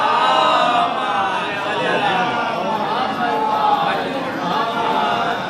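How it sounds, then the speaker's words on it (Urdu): A large gathering at Karbala Diyanatuddaula chants salawat together in loud massed unison during a farewell majlis for Imam Husain. The dense wall of voices holds steady for the whole stretch. "بابا سے بلند نعرے صلوات بھیجیے گا"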